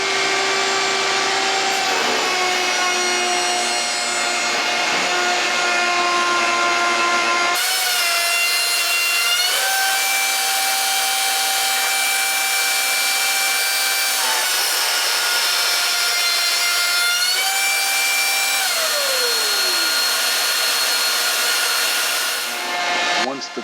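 A router cuts the end grain of a cabinet door rail with a backing block behind it, a loud steady high-pitched whine with shifting pitch that runs without pause.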